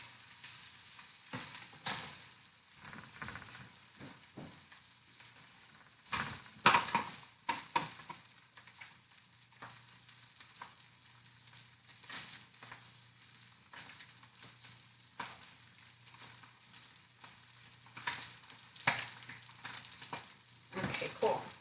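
Spam slices crackle and sizzle crisply in a frying pan, a steady close hiss with scattered pops and a few louder clatters of stirring or utensils against the pan throughout.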